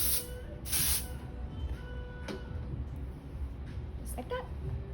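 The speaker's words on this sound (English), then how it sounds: "So the texturizing spray is gonna go in your ends." Texturizing hair spray being sprayed onto the hair ends gives two short, sharp hissing bursts near the start, then fainter brief spritzes over low room noise, with light talk nearby.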